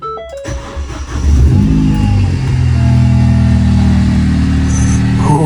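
A race car engine cranks and fires up with a loud bark, then settles into a deep, rumbling idle with a few throttle blips, close and powerful.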